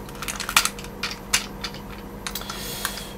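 Plastic joints on a Transformers Victory Road Caesar toy's legs click sharply as they are folded down, several close, crisp ticks spaced irregularly, loudest near the start, with quieter clicks trailing off.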